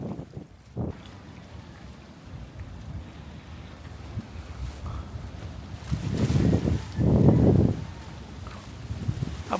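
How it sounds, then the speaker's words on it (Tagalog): Strong storm wind buffets the microphone on a low-tide beach during Typhoon Ana in Catanauan, a steady loud roar with heavier gusts surging near the end, sea noise underneath and no voices. "Malakas ang hangin guys. Dahil may bagyo kasi ngayon"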